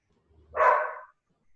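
A single dog bark, one short tonal yelp heard on its own at moderate loudness, with silence before and after.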